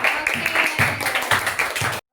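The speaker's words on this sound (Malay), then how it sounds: "Menunjukkan tepukan kumpulan Hazwan." Students in a classroom give a patterned group clap for Hazwan's group, with rhythmic bursts of claps and voices chanting along, ending abruptly in silence.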